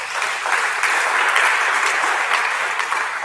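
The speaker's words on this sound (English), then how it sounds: "please applaud them again" An audience applauds at a World Environment Day celebration, a dense, loud sustained clapping that fills the hall without pause.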